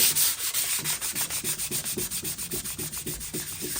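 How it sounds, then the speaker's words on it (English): Hand sanding a painted motorcycle fuel tank with 500 grit sandpaper, quick regular back-and-forth rasping strokes, close and steady, about five strokes per second, with no talk. "take some of this 500 grit and go over top of it"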